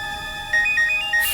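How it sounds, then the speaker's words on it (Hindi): A phone ringtone plays in short, repeated electronic tones, clear and close, starting after a brief quiet moment and repeating in an even rhythm. "उसी का फोन है।"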